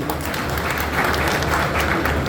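An audience at a university gathering bursts into dense, continuous clapping, close and loud for the whole short stretch.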